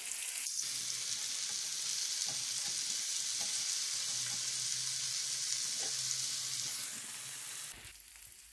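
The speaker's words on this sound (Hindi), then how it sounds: "पलट कर हर तरफ से गोल्डन कलर आने तक फ्राई करेंगे।" Turkish chicken kebabs frying in oil in a tawa over a low flame, a steady close sizzle that continues evenly, then drops slightly and stops near the end; no talking.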